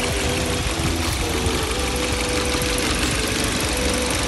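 A used MPV car's engine idles steadily nearby, a constant low rumble with faint rhythmic knocking and no talk.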